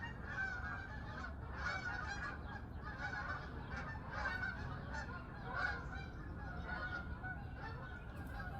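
A large flock of geese passes overhead, a continuous chorus of overlapping honks that is faint and distant, steady throughout with no other sounds intruding.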